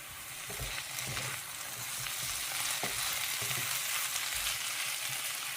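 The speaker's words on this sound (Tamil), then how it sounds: "மொறு மொறுன்னு உருளைக்கிழங்கு ஃப்ரை செஞ்சுருக்கேன் ஓடிட்டுருக்கு முடிகிற தருவாயில் இருக்குது" Potatoes frying until crispy and nearly done, cooked in a catering kitchen: a steady, dense sizzle and crackle of hot oil fills the whole stretch, with occasional soft thuds from stirring underneath, close and fairly loud with no talk.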